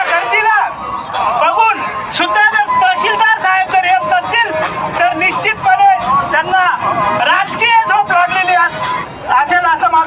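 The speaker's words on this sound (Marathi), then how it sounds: "आज बऱ्याच प्रमाणात गर्दी जमलेली आहे" A large crowd gathered at a farmers' protest, dense overlapping chatter and babble filling the space continuously, with individual voices rising close by.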